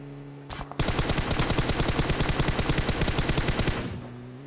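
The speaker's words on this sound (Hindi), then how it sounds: "जिस हिसाब से ये लोग गोली चला रहे हैं" Rapid, sustained automatic gunfire in PUBG Mobile, a steady burst lasting several seconds, loud and close, with a brief shorter burst just before.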